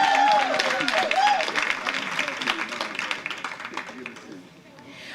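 A school board meeting audience applauds a champion team in steady scattered clapping that starts fairly loud and thins out, with talking over it.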